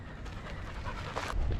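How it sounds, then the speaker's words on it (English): A dog on a mountain hiking trail near Lake George, New York, pants hard and fast with a hissing, tea-kettle-like wheeze. The rapid breaths come up close and steady, growing louder toward the end, with no talk. "Here comes the dog that sounds like a tea kettle."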